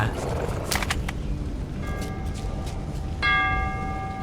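A small bell chimes several times in Metro 2033 Redux, bright tones ringing out over a steady background hum, with a stronger ring near the end.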